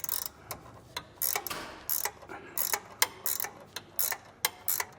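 Ratchet wrench tightening a bolt on a Firestone Ride-Rite rear air helper spring on a 2022 Chevrolet, a run of sharp metallic clicks in short bursts, close and fairly loud, with no talk.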